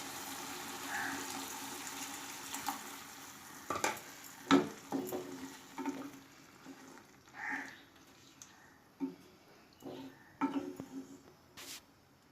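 Water poured into a pan of simmering kandula potato curry sets off soft sizzling and bubbling with occasional sharper splashes and clinks, fairly quiet and close.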